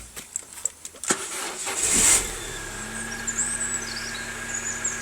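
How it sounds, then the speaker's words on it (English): A Peugeot 406 Coupe SE engine starts: a few faint clicks and a key jingle, a brief cranking burst that catches, then a steady, smooth idle hum without rattles or knocks. "So I'll just start her up a moment."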